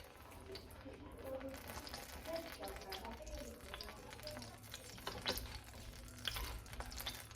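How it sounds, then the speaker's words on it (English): A pan of pork chops sizzles softly and continuously in the background, a faint crackling hiss with occasional sharper pops and clatters. "I gotta hurry because I hear my pan sizzling."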